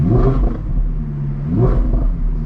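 Audi R8 Performance engine revving to about 3,000 RPM in winter, two loud, close blips rising and falling over a deep idle rumble, roughly a second and a half apart.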